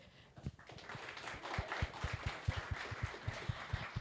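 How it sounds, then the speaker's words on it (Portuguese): Audience applause for a speaker at a Brazilian tech conference, the Mobile Summit Brazil 2017, with steady hand claps building from sparse to dense, moderately distant in a hall. "eu queria pedir uma salva de palmas"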